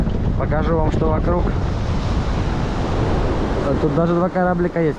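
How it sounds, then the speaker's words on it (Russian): Strong wind buffets the microphone on a Black Sea shore at the mouth of the Ashe river, with a constant loud roar of surf and waves beneath someone speaking Russian throughout. "Пока тут формируются волны,"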